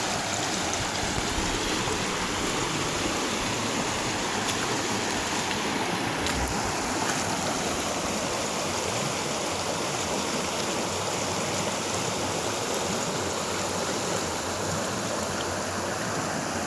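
Gunpowder River in Hemlock Gorge, Maryland, rushing over worn, grooved rocks: a loud, steady, close roar of flowing water, unbroken throughout with no voices.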